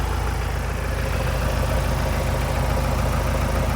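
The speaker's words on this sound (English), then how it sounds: "the engine is idling" A Ford Transit engine idles in a steady, even drone with a constant low rumble, close by and alone, no voices.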